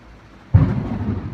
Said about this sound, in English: There's your thunder.